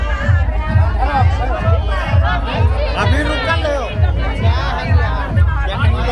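Dense crowd chatter fills a Tharu wedding, many overlapping voices close by with a steady rhythmic thumping of music underneath and nearby speech over the top.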